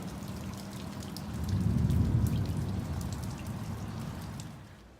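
Steady rain from a brief thunderstorm pattering on a surface, with a dense wash of drops that swells briefly in the middle and then eases slightly toward the end.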